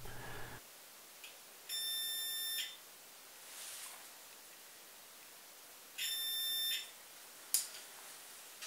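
Two steady high-pitched electronic beeps from a multimeter continuity test on a 3.5mm audio socket, each lasting about a second, separated by a few seconds of quiet room hiss.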